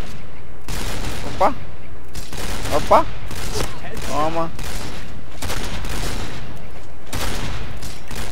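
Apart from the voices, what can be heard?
rapid gunshots in the video game Point Blank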